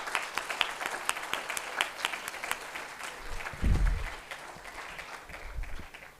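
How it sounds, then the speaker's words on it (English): Audience applause at a graduation award ceremony at MICA in Ahmedabad: dense, steady clapping from a large crowd throughout, swelling briefly near the middle with a low rumble. "So big round of applause for the welcome of"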